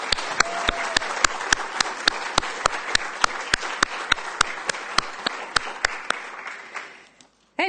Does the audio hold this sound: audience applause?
yes